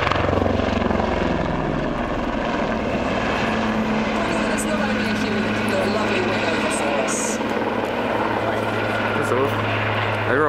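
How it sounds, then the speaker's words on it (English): An SH-2G Seasprite helicopter flies at the Warbirds Over Wanaka airshow, its loud, continuous rotor and turbine drone filling the air while a commentator speaks over it on a public address. "And looking to the front, we can see the SH-2G Sea Sprite."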